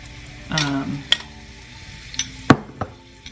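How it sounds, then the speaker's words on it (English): Quiet sizzling in a pan, with a few sharp clinks of a utensil against the cookware. "You hear that sizzle? You want to hear that sizzle."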